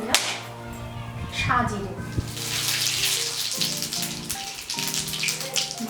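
Whole garam masala and a small bay leaf hitting hot oil left from frying potatoes, bursting into a loud crackling sizzle that settles into a steady hiss with spattering pops, under a brief spoken word.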